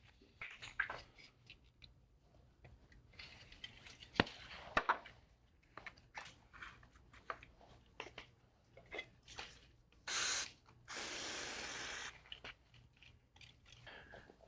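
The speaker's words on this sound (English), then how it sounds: "let me just spray this sucker down to clean some of this crap out" Brake cleaner sprays down the inside of a Metabo angle grinder's bevel gear box to flush out grime. Two loud hissing bursts stand out among scattered clicks and handling knocks.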